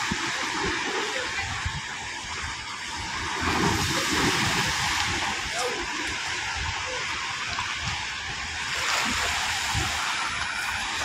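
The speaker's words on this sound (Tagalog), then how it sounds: "Ayan po ng dati mga kapising, mas malalaki ngayon ang alon." Large sea waves roll onto the shore of Manila Bay, a steady broadband wash that swells in loudness around the fourth and ninth seconds, with no clear voices over the continuous surf.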